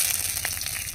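A bay leaf sizzling in hot mustard oil in a karahi, a short burst of steady hissing crackle, close and even, with no talking.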